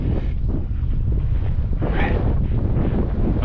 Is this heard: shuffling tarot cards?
no